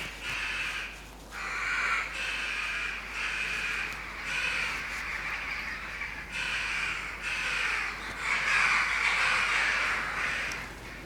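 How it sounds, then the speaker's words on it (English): Several crows perched in a tree outside a farmyard door caw repeatedly in overlapping bursts, moderately distant and steady throughout. "Now you can hear there's quite a few birds sitting in a tree just to the left outside the door."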